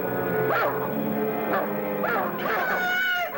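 A cartoon dog barks and yips in repeated loud bursts while chasing another dog, the yelps rising and falling in pitch close up.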